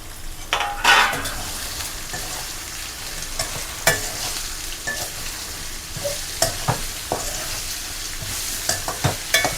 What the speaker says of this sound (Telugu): ఇప్పుడు మన కాకరకాయలన్నీ వేసేసుకోండి